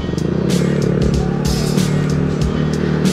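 A Yamaha Mio Sporty scooter on a road test, its engine running steadily and loudly close to the rider, with a continuous drone, some clattering and brief wind buffeting.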